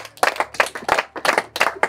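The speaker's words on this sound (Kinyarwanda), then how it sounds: "mubakomera amashyi menshi cyane nanone" An audience at a Rwandan comedy show claps in rhythmic bursts, roughly five loud waves of applause close by with brief dips between them.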